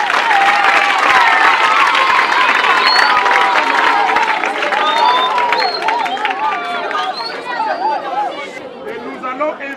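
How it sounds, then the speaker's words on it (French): Audience at a school event on albinism awareness, with loud crowd chatter and cheering voices over scattered applause, the clapping largely buried under the voices throughout. "je demande qu'on les applaudisse très fort"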